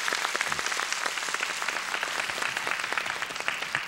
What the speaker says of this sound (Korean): 다시 한번 많은 박수를 부탁을 드리겠습니다